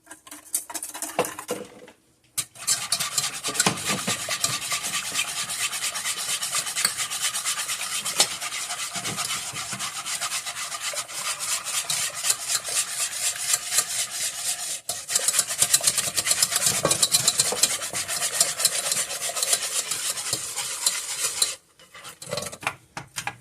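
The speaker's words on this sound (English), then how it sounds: "then we're going to whisk these two together" Steady, rapid scraping and rubbing of a whisk against a pot as vanilla pastry cream ingredients are beaten together, close and continuous for about twenty seconds, with brief pauses near the start and end and no talk.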